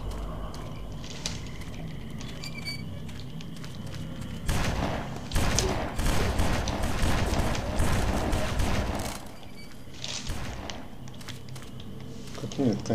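Gunfire in the video game BloodRayne, running on the PCSX2 emulator: a dense, loud volley of shots for several seconds mid-scene, surrounded by quieter game ambience and voice-like sounds.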